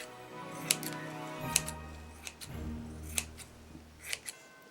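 Scissors cut thick material into the shape of a homemade Christmas bauble, making several crisp, quiet snips at irregular intervals, close by and without voices.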